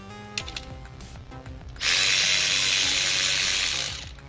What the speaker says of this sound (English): Gotta love power tools.